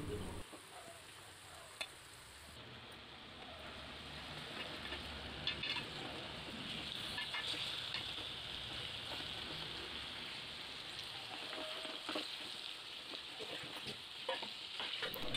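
Koyinga pieces fry steadily in a pan with a soft, continuous sizzle and scattered pops and crackles, fairly quiet and close, with no talking.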